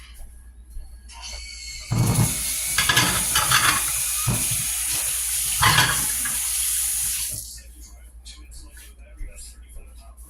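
A simple omelet with meat cooks in a pan: a loud, hissing sizzle swells up, holds for about five seconds, then fades, with a person talking before and after it.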